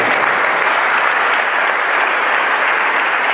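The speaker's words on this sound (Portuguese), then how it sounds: "Aplauda o Senhor nesta noite." A church congregation applauding during a worship service, dense sustained clapping from many hands, loud and even for the whole moment with no pause.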